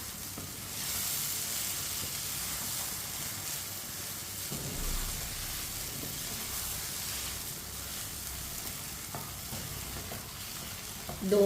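Semolina halwa is roasted in a pan with a soft, continuous sizzle and hiss, broken by scraping stirs and a louder clatter of the spoon near the end.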